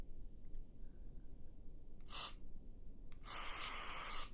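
Spray tool in Oculus Medium sculpting software, two bursts of bright airy hissing, a short one and then a longer sustained one, over near silence.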